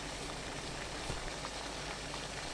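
Water boils steadily in a dumpling steamer, a soft, even bubbling hiss with no breaks, low in level and heard alone.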